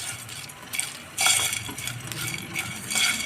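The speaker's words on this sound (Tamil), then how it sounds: "இதை வந்து கொஞ்சம் மிதமான சூட்டில் வச்சு நல்லா ஃப்ரை பண்ணிக்கிடுவோம்." Whole spices such as stone flower and star anise dry-roast in a pan over medium heat without oil, stirred with close, continuous scraping and rattling that swells in louder bursts, with no talking.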